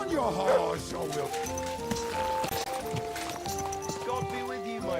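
Rhythmic horse hoofbeats from riding in Kingdom Come Deliverance 2 clop steadily beneath a background music score and a speaking voice.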